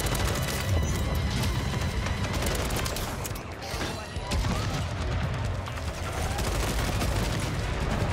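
Ram 7 assault rifle fire in the video game Modern Warfare 3, with rapid dense bursts of gunshots running almost continuously along with other crashing game effects, at a fairly low overall level.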